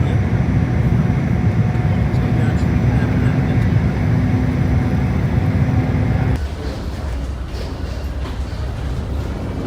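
An airliner comes in to land near the Mekong River, a loud, steady roar of engines and air heard from inside the cabin that drops abruptly to a quieter rumble near the end.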